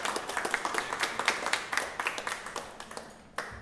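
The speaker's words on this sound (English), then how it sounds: "I think we should all give each other a round of applause" Scattered claps from a small group of workshop participants, sparse and uneven at first, then thinning out and tailing off near the end.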